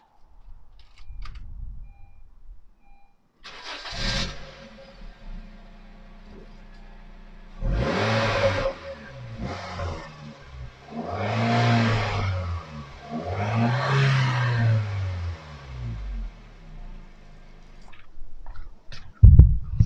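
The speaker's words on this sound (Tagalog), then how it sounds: "paparinig ko muna sa inyo yung stock exhaust OEM nya, kung ano yung tunog" A Honda Jazz/Fit with its stock OEM exhaust starting up and idling, then revved several times in short bursts, each rise and fall distinct and fairly quiet, close by.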